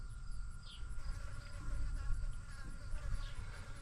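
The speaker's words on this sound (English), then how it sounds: "That one's a bee." A bee buzzes steadily near an old 1964 Chevy farm grain truck, a continuous insect drone with faint wavering tones over a low background rumble.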